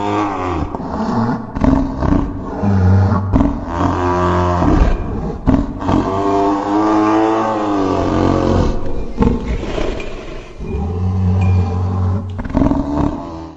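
A creature called the Basement Baby, from Trevor Henderson's monster lore, lets out long, loud, growling roars and wails that rise and fall in pitch across several sustained bursts with short breaks between them.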